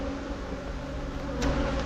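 Honey bees buzz steadily around hive frames during colony buildup for almond pollination, a low continuous drone with a brief brighter swell near the end, no voices.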